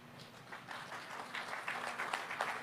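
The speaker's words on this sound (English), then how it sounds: "A big round of applause." Audience applause at the inauguration of the Samar Pacific Coastal Road Project, a crowd clapping steadily at a moderate distance, building slightly and sustained throughout with no talk over it.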